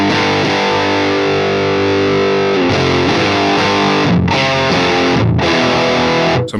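Heavily distorted electric guitar through an STL Tones Saratov M50 amp model on mod 1, thick sustained chords played loud with a couple of brief gaps between hits, ending abruptly.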